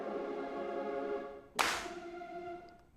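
A single sharp clap from Jacob Collier Audience Choir software lands midway through sustained synthetic choir tones, which continue softly after it.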